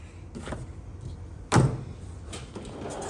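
A tool-chest drawer holding wrenches and sockets slides open in a garage shop, giving one loud, short rattling clack near the middle over a quiet room hum, with fainter knocks before and after.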